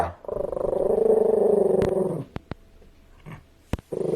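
A low, steady rumbling growl from a dog, held for about two seconds, close and fairly loud, followed by a few sharp clicks and brief quiet.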